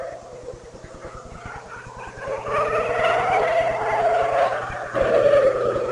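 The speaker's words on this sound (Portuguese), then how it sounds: "É diferente o barulho do motor da BAR para o da Ferrari, mesmo sendo um Honda que empurra a BAR" Formula 1 cars with Ferrari and Honda-powered BAR engines roar at the 2000 United States Grand Prix, a loud, steady high-pitched howl that rises in pitch over several seconds.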